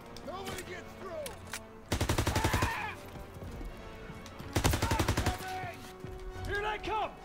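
Bursts of rapid automatic gunfire erupt twice in a Call of Duty WWII battle, each a dense rattling volley of about a second, with game voices talking between them.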